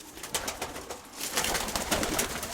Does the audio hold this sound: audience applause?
no